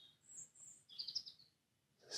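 A bird outdoors sings a few faint, high chirps and short tweeting phrases, spaced by brief quiet gaps, with a soft background hush and no one speaking.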